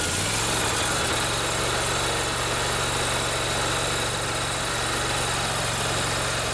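A Kohler Command twin-cylinder small engine runs steadily after excess oil has been drained, a loud, continuous idling drone with a low hum close to the microphone, no voices.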